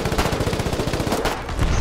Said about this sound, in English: I got killed by gunfire.